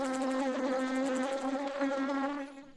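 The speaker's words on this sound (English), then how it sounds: "It's a bee." A bee collecting nectar from rainforest flowers buzzes steadily and close up, a continuous droning hum that wavers slightly and fades at the end.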